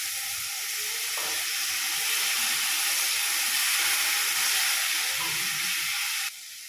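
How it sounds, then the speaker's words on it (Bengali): Spice paste sautéing in a pan after a splash of water for a prawn curry, giving a continuous broad hiss and steamy sizzle, steady and fairly close, that drops off sharply near the end. "এবার মশলাটাকে আবারও 2-3 মিনিট এভাবে কষিয়ে নেব"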